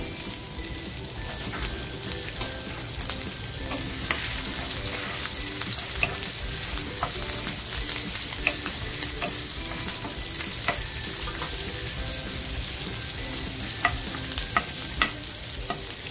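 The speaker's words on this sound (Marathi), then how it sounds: "मिरची छान फ्राय होते ना" Cut green chilies and cumin fry in hot oil with a continuous close crackling sizzle, broken by intermittent spoon taps and stirring, for a sabudana khichdi.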